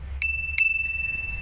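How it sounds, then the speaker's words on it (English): Two quick rings of a small bell on a 48V Eco Drive 2.0 electric scooter, bright metallic dings close to the mic, the second left to ring out and fade. "Now we have this cute bell over here,"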